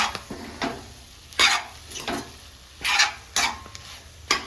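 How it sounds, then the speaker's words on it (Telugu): Spices with salt and chili powder being stirred and fried in a pan, a soft sizzle beneath repeated scraping strokes of a utensil against the metal, in irregular bursts. "ఉప్పు కారం వేసినాక మంచిగా ఇట్లా ఫ్రై చేసుకుంటూ ఉండాలి."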